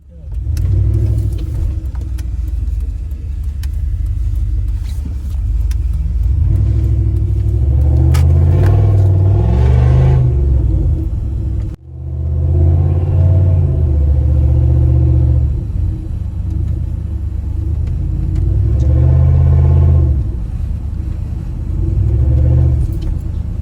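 A 2000 Dodge Durango with a muffler delete and only a gutted catalytic converter cruises at steady speed, its exhaust a constant deep rumble that drones throughout with brief swells, while a voice talks over it at times.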